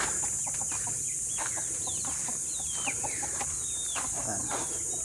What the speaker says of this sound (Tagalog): mga native na manok ko